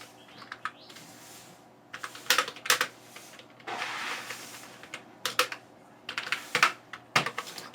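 Irregular clattering keystrokes on a computer keyboard while a letterhead is designed in Adobe Photoshop, coming in bursts and single taps with short pauses, close and moderately loud.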